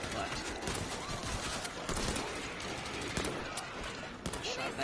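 Sporting Combine single-shot gun firing in World War Z, several sharp shots scattered over dense, noisy game action, fairly faint overall.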